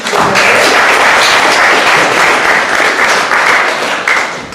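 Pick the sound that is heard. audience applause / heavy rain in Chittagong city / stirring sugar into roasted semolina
audience applause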